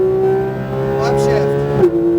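A car engine on a race track revs hard at full throttle, a loud sustained whine climbing steadily, then dips briefly with a shift near the end; a voice speaks over the engine.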